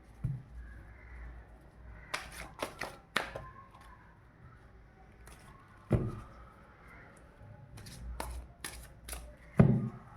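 Tarot cards shuffled and drawn by hand, giving a few soft flicks and slaps in scattered bursts with quiet gaps between, close and fairly faint, with no talking.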